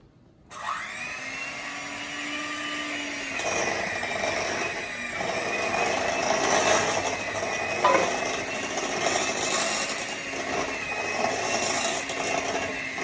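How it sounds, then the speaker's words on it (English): A hand mixer whirs into cauliflower stuffing, starting abruptly after a brief silence and running as a steady, loud motor drone with shifting pitch as it blends, no voices. "we're going to take a hand mixer and blend it all together"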